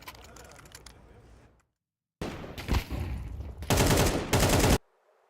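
Gunfire during a Counter-Strike esports match at the IEM Cologne Major, a burst of quick clattering shots after a short silence, loud and dense, under crowd and caster noise.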